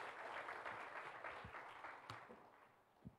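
Scattered applause from a church congregation for the worship musicians, moderately distant and fading toward the end, with a few sharper claps standing out near the close.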